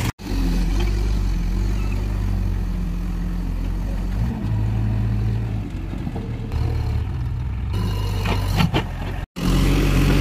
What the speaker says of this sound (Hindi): देखिए ड्राइवर साहब वहाँ चला रहे हैं गाड़ी